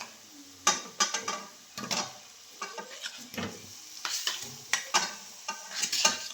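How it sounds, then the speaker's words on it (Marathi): Potato goes into a pan of fried green chillies and is stirred, giving a close, steady scrape and clatter of a spoon against the pan over a soft sizzle, with irregular taps throughout. "हिरवी मिरची चांगली परतली. आता टाकून घेते बटाटा."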